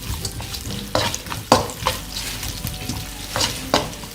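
Chopped onions sautéing in a pan for mushroom biryani, with a soft continuous sizzle and irregular scraping strokes of a spatula stirring them, close and fairly loud.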